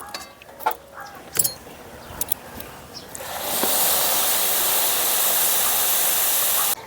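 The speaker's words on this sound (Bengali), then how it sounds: "আর এখন আমি এই পর্যায়ে দিয়ে দেবো জল" Water poured into a hot pan of oil-free, ghee-free vegetarian kabuli chickpea curry bursts into a loud, steady steam hiss that follows a few soft clinks and holds for several seconds.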